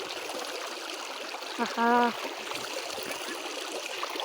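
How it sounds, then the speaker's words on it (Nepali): A village stream in Nepal flows in a steady close rush of water, with a short voiced exclamation breaking in briefly partway through. "कस्तो राम्रो खोला है"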